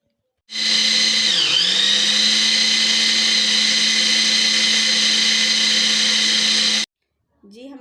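An electric grinder blends a chicken burger patty mixture with sauce, milk and lemon, a loud steady high whine that starts suddenly, dips in pitch briefly as it bogs down, then runs evenly for about six seconds before stopping.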